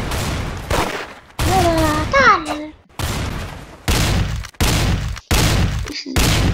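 Gunfire in the Roblox shooter Arsenal, loud bursts of shots in several separate volleys with short gaps between them, mixed with game effects and a voice briefly talking.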